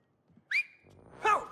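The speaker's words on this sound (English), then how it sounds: "Just whistle." Short whistled notes in the co-op video game It Takes Two: a rising whistle near the middle, then a brighter warbling burst a moment later, close and clear with no talk over it.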